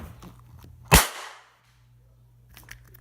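A firework bangs indoors in a house, one sharp loud crack that rings and decays over half a second amid quiet room noise, with faint rustling before and after.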